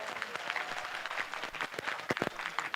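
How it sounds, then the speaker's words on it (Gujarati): A crowd at a hostel ground-breaking ceremony in Patan bursts into lively, dense applause, many hands clapping together at moderate distance for a few seconds. "એક વખત ફરીથી જોરદાર તાળીઓ થઈ જાય"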